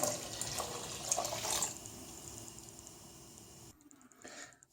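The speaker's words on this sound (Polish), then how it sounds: "Dolejemy litr wody i będziemy wszystko tutaj gotować na wolnym ogniu." A litre of water pours into a soup pot on a stove, a steady rushing splash that fades after about two seconds, leaving faint trickling and drips.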